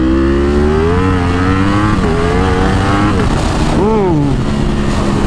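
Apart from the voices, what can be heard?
Ducati Superleggera V4 motorcycle revving, wheel spinning in first gear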